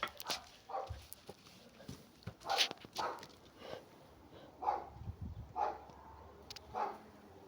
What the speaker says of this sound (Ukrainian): А, я знаю, він на курицю гавкає.